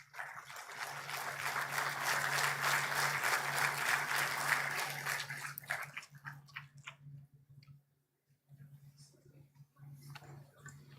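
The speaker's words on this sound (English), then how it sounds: "Let's give them a big hand of applause." Audience applause at an industry showcase award at a university conference in Pune, a loud sustained round of clapping that fades out, followed by scattered claps and faint room noise.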